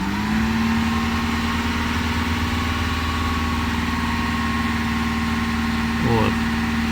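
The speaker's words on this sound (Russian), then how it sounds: "На прогретой машине нажимаем и держим обороты." Warmed-up 2016 Audi Q7 4M 3.0 CVMD diesel, with a knocking fault, held at steady raised revs, a constant droning engine tone that dips briefly near the end, with a person speaking over it.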